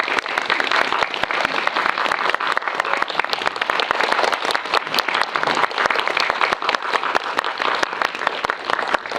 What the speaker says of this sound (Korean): 두 분의 게스트를 큰 박수로 맞이해 주시기 바랍니다.